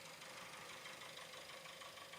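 A car engine runs steadily nearby in a workshop while the pedal box and steering column are being removed, giving a continuous broadband hum with a faint knocking texture.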